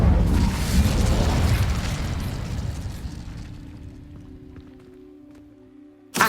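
Incendio fire spell cast in Hogwarts Legacy: a loud, dense burst of roaring fire and blast noise that gradually fades over several seconds into quiet tones, ending with a sharp new pop.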